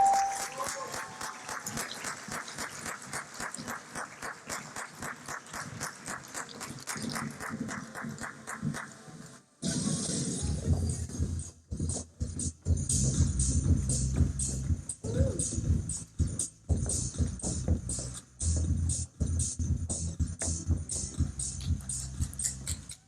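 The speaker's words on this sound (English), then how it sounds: "Let's give them a big round of applause." Awards gala audience for a Teacher of the Year ceremony claps steadily, a dense run of hand claps fading in, then a fuller, louder burst of applause with cheering that continues for many seconds.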